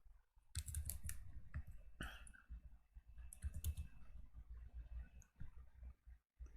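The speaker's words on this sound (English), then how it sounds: "Let me just type Crisil." Quiet, close typing on a computer keyboard: scattered clicks and short bursts of keystrokes at an uneven pace, soft and dry.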